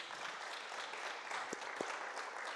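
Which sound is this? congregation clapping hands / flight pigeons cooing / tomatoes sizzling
congregation clapping hands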